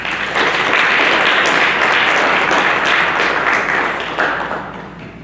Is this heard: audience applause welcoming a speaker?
yes